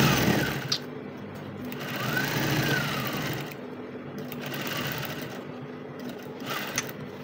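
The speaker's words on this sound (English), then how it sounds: "Then you sew. When you get to the angle, you cross it and sew it down as well." A sewing machine runs in steady whirring stretches while stitching a one-side lapel dress, close and fairly loud, with brief pauses between runs and no talking.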